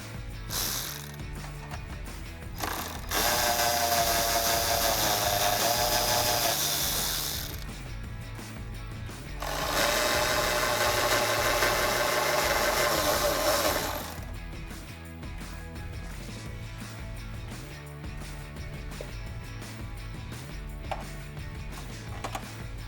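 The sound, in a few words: socket wrench removing three taillight bolts on 2005-2009 Ford Mustang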